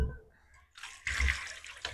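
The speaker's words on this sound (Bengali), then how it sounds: "তার আগে একটু ভালো করে জল দিয়ে ধুয়ে নেব" Clay diyas being washed in water in a basin, with brief splashing and dripping sloshes close by, short bursts separated by a quiet gap.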